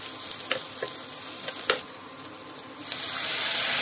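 Vegetables sizzle and fry steadily in a pan while being stirred, with a few sharp scraping clicks of the utensil, the hiss growing louder near the end.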